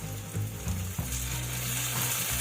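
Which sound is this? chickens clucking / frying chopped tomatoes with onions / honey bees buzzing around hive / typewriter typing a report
frying chopped tomatoes with onions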